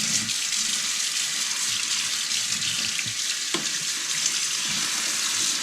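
Steady broadband rush of tap water running over and through a Winix C535 air purifier filter as it is rinsed in a sink, continuous and fairly close for the whole stretch with a brief clunk partway.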